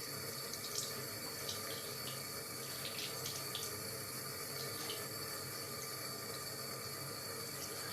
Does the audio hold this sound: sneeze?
no